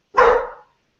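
A single loud, close dog bark rings out sharply and fades quickly into silence.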